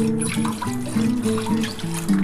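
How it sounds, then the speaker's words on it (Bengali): Water pours into a kadai (wok) with a steady trickling, gurgling splash whose pitch shifts as the pan fills, close and fairly loud, with no talk. "কড়ার মধ্যে আমি জল দিয়ে দিচ্ছি।"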